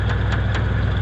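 A 1993 Ford Bronco engine idles while warming up after sitting for about a week, a steady, close, loud rumble with an even pulsing rhythm and no voices.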